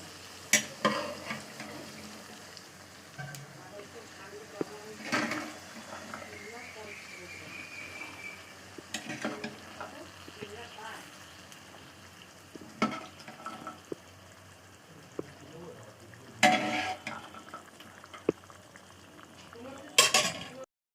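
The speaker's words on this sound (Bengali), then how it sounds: "মটরগুলো দিয়ে দিয়েছি এবার একটু নেড়ে নেবো" Soaked, boiled peas stirred in a frying pan, with a soft sizzle under a few sharp, scattered scrapes and clinks of a utensil against the pan, spaced several seconds apart, and a faint voice in the background.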